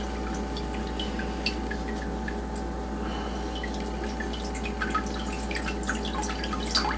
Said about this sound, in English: squeezing out as much water as I can